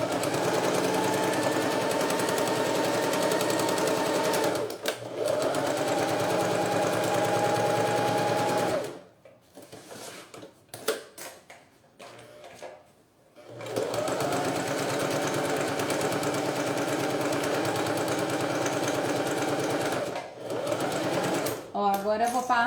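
A sewing machine stitches thin 0.8 synthetic fabric across a seam while making a university bag, running loud and steady in long bursts with a quieter pause partway through, as a voice talks over it.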